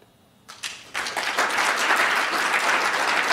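Audience applause fills a university lecture hall during a show-of-hands style poll, starting sparse with a few claps then swelling into loud, sustained clapping from the crowd.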